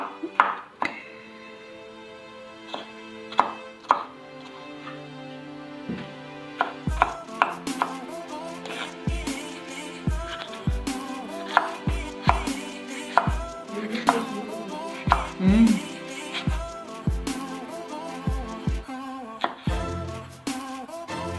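Broccoli is chopped into bite-size pieces with a knife on a cutting board, giving repeated sharp thuds in uneven bursts. The cuts are close and loud over faint background music.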